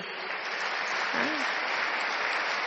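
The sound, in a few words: loud applause from the audience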